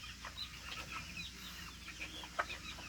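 Spartan Black cockerels and young pullets under three months old cluck softly in a ranging area. Scattered short calls overlap at close to middle distance over low background noise.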